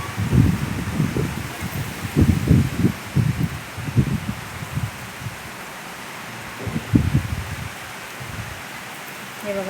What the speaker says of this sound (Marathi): बघा किती वारं सुटलेलं आहे.